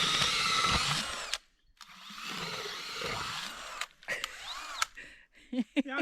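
A power drill whirs in bursts, starting and stopping several times with short gaps, close by with some scraping and clicks.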